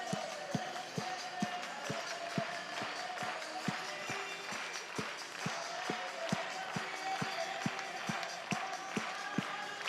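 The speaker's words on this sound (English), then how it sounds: "So let's get those hands up in the air and follow along. Here we go. Clap those hands." A stadium crowd at a Banana Ball baseball game at Auburn University claps along in a steady, regular rhythm, each clap crisp and evenly spaced, with music and crowd noise running underneath.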